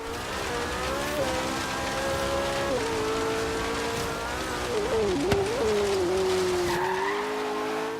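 McLaren 570S rallycross car in Forza Horizon 3, engine droning steadily at high revs with tyre skids, a brief gear or pitch dip midway and a sharp knock near the end, loud and continuous with no talk.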